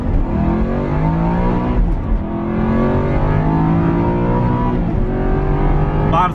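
Aston Martin V8 Vantage engine revving hard under acceleration toward about 7000 rpm, a loud, continuous, rising engine note heard from inside the car throughout.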